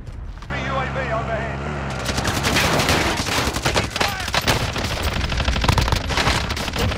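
Automatic gunfire in Call of Duty Warzone in Verdansk, with rapid bursts and overlapping shots that keep going for several seconds over mechanical game noise and faint voices.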